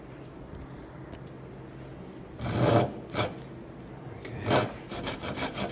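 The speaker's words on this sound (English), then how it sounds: "when I'm sawing, it's always important to make sure that I'm sawing right with that line." A hand saw rasps through wood in a few bursts of strokes after a quiet stretch, with a brief spoken word near the start.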